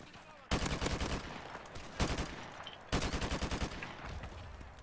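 AK rifle gunfire in a video game: three loud bursts of rapid automatic fire, each a rattling stream of shots over a constant game background, with no talk.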